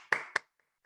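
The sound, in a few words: hand clapping demonstrated by speaker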